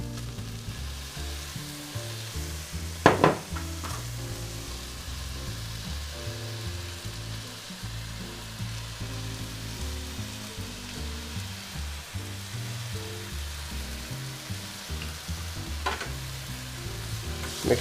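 Tomato sizzles among golden browned onions in a pan for spaghetti bolognese, a steady close frying hiss under low burner rumble, with a couple of sharp stirring clatters from the spoon.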